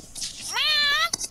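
A person's voice imitates a cat's meow over game voice chat in Sven Coop: one drawn-out, strained meow that rises and then holds, followed by a short sharp sound.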